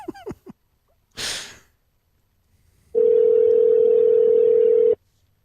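A steady telephone ringback tone sounds loudly for about two seconds during an outgoing call, after a few short breaths and a sneeze-like burst.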